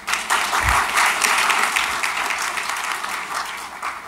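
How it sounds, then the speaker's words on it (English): Audience applause at a tourism summit opening session in Bermuda, a room full of people clapping loudly and steadily for a few seconds before it begins to thin out, with no talking over it. "Give yourselves more applause."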